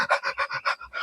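A voice imitates a dog panting with its tongue out after running hard, about seven quick, rhythmic breathy huffs, close and fairly soft, with no other sound.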